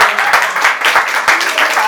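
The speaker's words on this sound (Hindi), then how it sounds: "एक बार ताली बजा दीजिए।" Steady crowd applause fills the whole stretch, a dense wash of many hands clapping at an even level.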